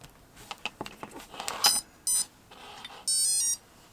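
An RC plane's ESC gives short electronic beeps once its battery is plugged in, two distinct close tones following a few small clicks and handling rattles.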